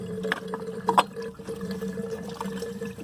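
Coolant water from a 2006 Audi A6 3.2 Quattro engine gushing and splashing out as a hose is split off, a close, continuous wet trickle with a couple of louder splashes early on.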